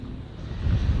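Strong gusts of coastal wind rumble across the microphone on a sand beach near Cape Mendocino, a dense low roar that swells toward the end.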